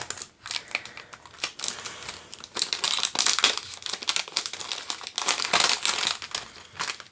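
Foil booster pack pull tabs from a Theros Beyond Death box crinkle and tear in dense, continuous bursts up close, with bright rustling peaks throughout.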